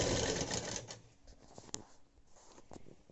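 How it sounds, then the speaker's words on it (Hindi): A sewing machine stitches a folded fabric dress neckline in a fast, rattling burst at the start, then slows into scattered clicks and soft mechanical taps. "नेक के ऊपर एक इस सिलाई लगा देंगे अच्छे से"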